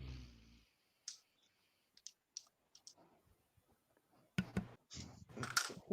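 Someone types on a computer keyboard during an online voice chat, producing sparse, quiet, irregular clicks and short bursts of keystrokes that grow busier near the end, with no talking.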